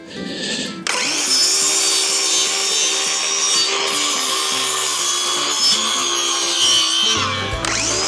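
A loud, close power saw cuts steadily through timber with a continuous whining buzz, then winds down near the end.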